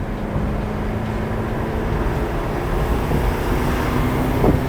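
Tuned Mercedes 190E with a manual gearbox pulling through the gears, a steady low engine drone and road rumble filling the cabin, building slightly toward the end with no talking.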